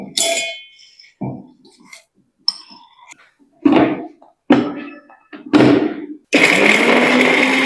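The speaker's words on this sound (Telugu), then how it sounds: "సో దీన్ని ఇప్పుడు మనం మిక్సీ వేసుకుందాము" A kitchen mixer grinder is loaded with cinnamon and cloves for homemade tooth powder: several hard clunks and knocks of the jar and lid come first, then the motor starts with a loud, steady whirring grind.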